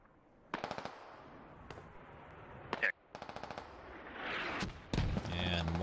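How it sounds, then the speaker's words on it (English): Mortar fire in the military shooter Squad: scattered sharp detonations and cracks, distant and fairly faint, arrive in irregular bursts over steady background rumble, with some radio-like chatter near the end. "And mortars dropping in on Silver's position, but far out and not really going to hit anyone."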